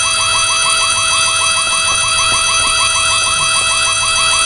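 A fire alarm rings inside a school in the horror game White Day, a loud, unbroken electronic wail that rises and falls in rapid repeating sweeps over a steady high tone, with no talk.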